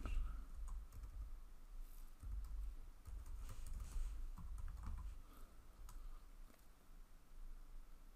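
Someone typing a command on a computer keyboard at a command prompt, a soft run of quick key clicks in short bursts, fairly quiet and close, with no talking.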